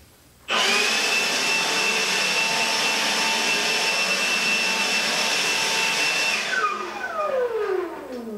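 A Milwaukee M18 cordless blower clearing out a garage: loud high whine that starts abruptly, runs steady and close for several seconds, then winds down with a falling pitch.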